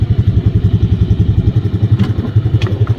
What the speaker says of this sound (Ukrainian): Карбюратори у нас всі налаштовані, тому запускається воно з полтичка.